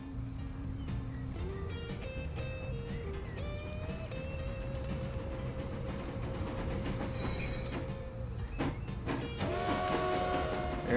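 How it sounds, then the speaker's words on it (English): Train running in a Transport Fever tycoon game on an America campaign map, with continuous rolling rumble, steady hum and squealing wheel tones, brief higher squeals and clicks, no talking. "there's our second train."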